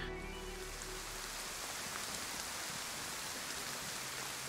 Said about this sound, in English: A normal rainy day in DayZ.